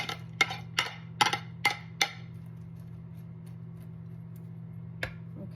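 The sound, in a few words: oven preheating, ticking in the background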